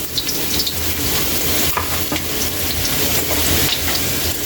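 Ginger fries in hot oil for a pork dinuguan, a dense, continuous crackling sizzle up close with a few faint clinks of stirring.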